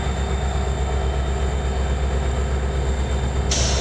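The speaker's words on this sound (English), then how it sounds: "So I'll get this train pulled up here" A Kentville and Eastern GP31 locomotive paired with an RDMT rolls along in the Open Rails train simulator, giving a steady, loud, continuous rumble of engine and wheels with a faint high whine.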